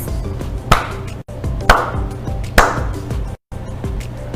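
Three crisp hand claps about a second apart, close and clear over a low steady hum, done as a counting example in a first-grade lesson; no one speaks.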